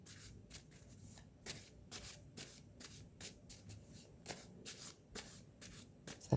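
A deck of cards used for readings is shuffled by hand close up, with quick rhythmic riffling and rubbing strokes repeating steadily, with no voice present.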